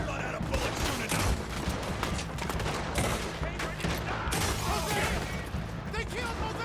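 Rapid, dense gunfire in a Red Dead Redemption 2 shootout, repeated shots and crackling volleys throughout, loud and chaotic, with voices shouting under the shooting.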